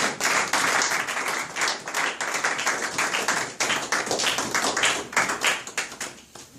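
A church congregation applauds during a Sunday service, a loud, steady wash of many hands clapping up close that carries on throughout and thins slightly toward the end.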